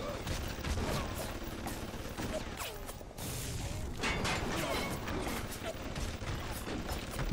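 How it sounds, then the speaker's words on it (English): Automated turrets fire in BioShock Remastered with dense, rattling bursts of gunfire and mechanical clatter. The shooting keeps up almost without pause, breaking off briefly near the middle before resuming just as loud. "Yeah, the turrets everywhere."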